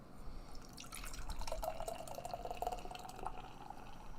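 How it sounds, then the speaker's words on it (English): Beer is poured into a Whistle Punk tulip glass, a continuous splashing, gurgling liquid stream heard up close for several seconds with no talking. "Let's give this guy a pour and see what it looks like."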